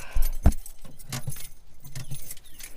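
Car keys jangle and clink sharply in the ignition of a 2007 Chrysler Sebring, a quick metallic rattle followed by a few softer taps, close and brief.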